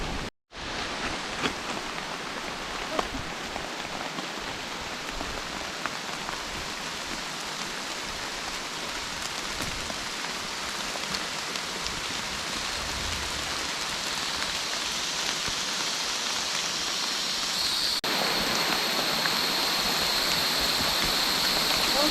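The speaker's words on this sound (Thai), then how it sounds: "ฝนตกมาก" Steady, dense downpour hissing continuously, heavy rain pouring on surfaces along a mountain forest trekking trail at Khao Luang, Thailand, growing slightly louder toward the end with no voices.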